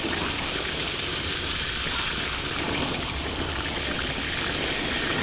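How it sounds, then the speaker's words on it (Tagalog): Strong water flow at a beach resort in Zambales, a steady loud rushing and splashing stream that continues evenly throughout. "Lakas ng tubig."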